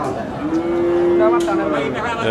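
A Friesian cow gives a single long, steady moo at a cattle market, loud and close, with a crowd murmuring in the background.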